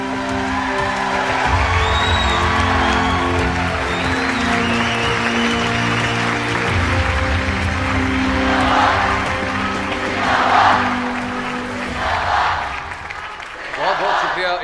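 At an air force ceremony, an audience claps and cheers in a sustained, dense wave of applause over a background of tones, with a voice speaking near the end.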